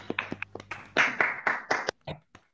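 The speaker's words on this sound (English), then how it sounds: "I wanted to invite all the students to just open the mic and give an applause for the session" Students applaud over an open online call at the end of a long jury session, with scattered individual claps at first, then a burst of several overlapping clappers that thins out to a few last claps.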